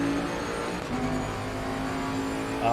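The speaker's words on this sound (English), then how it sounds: "Bentley sounds nasty." A Bentley race car engine in the SimSpace R5 racing game at the Kyalami circuit drones steadily at high revs, close and continuous, with a brief rise in pitch near the end.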